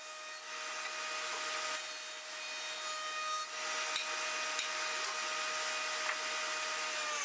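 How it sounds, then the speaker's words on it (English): A hand plane takes rough passes over a board, making a close, continuous rasping scrape with a steady hiss that runs almost unbroken. A faint tonal whine stays underneath, and nobody speaks. "we'll plane it just roughly so we can get an idea of where we need to cut it"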